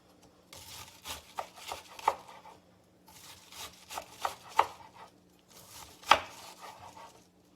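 A knife cuts cabbage into very thin slices for sauerkraut, giving irregular bursts of close crisp chopping and scraping strokes with short pauses between runs.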